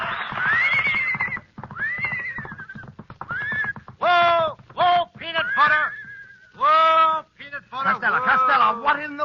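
Horse neighing as an old-time radio sound effect in an Abbott and Costello comedy show, a series of loud, shrill whinnies broken into separate bursts, with snatches of talk between them.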